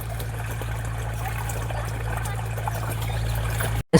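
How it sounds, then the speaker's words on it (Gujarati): Tap water running steadily from a village bore supply, a constant near trickling rush with a low hum underneath, cutting off abruptly just before the end. "પેલું પાણી આવ્યું નળનું પાણી."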